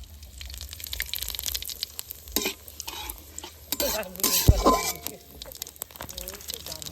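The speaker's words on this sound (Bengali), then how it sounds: "সর্ষের তেল দিয়ে দেবো ফোড়নে দিয়ে দেবো তেজপাতা শুকনো লঙ্কা জিরে" Bay leaf, dried red chillies and cumin seeds sizzle in hot mustard oil for a Bengali duck curry, a steady close crackle with a sharper burst of spatter midway as spices hit the pan.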